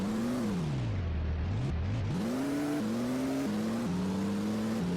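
A vehicle engine in the Minecraft Transport Simulator game revs up and down, dropping low then climbing again and stepping through gear-like shifts, loud and continuous with no talk.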